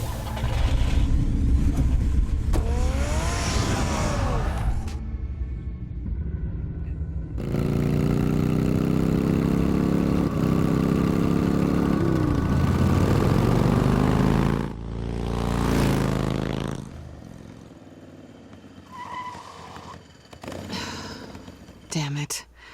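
A car engine starts up and drives in a Batman video game, a steady rumbling hum swelling in the middle stretch, surrounded by a voice, breaths and other game sounds.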